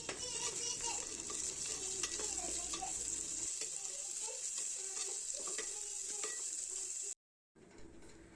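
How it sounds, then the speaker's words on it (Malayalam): Small chopped shallots frying in hot oil with curry leaves for an anchovy curry, giving a steady close sizzle throughout with light stirring clinks, before a brief cutoff near the end. "ശേഷം നമ്മൾ ചെറുതായിട്ട് അരിഞ്ഞു വെച്ചിട്ടുള്ള ചെറിയുള്ളി അതിലേക്ക് ചേർക്കുക."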